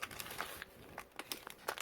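A plastic bag holding screws from a Unimat Basic machine kit crinkles and rustles in quick, irregular bursts, quiet and close-up as it is handled during unboxing.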